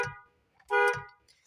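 An aftermarket replacement horn on a Maruti Alto sounds in two short, loud, bright blasts separated by a pause, close up and with no talk.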